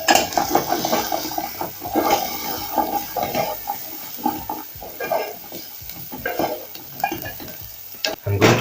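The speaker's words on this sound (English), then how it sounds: "I'm going to saute this till they turn translucent" Chopped onions sauté in hot oil with turmeric in a single pot, giving a steady close sizzle with stirring scrapes and utensil clatter throughout.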